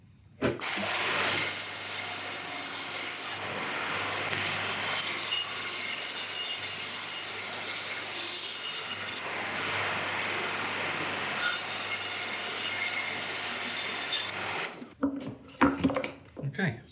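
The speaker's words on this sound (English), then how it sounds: "We'll take this over to the bandsaw" A bandsaw cutting burl wood pieces in a workshop gives a loud, steady whine and rasp that holds for about fourteen seconds with slight shifts in load, then stops abruptly, leaving a few clunks and handling noises.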